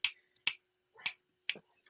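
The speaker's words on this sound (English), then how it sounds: "I used to be able to snap my fingers" Four crisp finger snaps, close and dry, evenly spaced about half a second apart in a quiet room.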